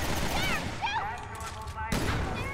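Gunfire in the video game Resident Evil Revelations 2 during a boss fight, a steady stream of shots under a dense layer of game noise and voices.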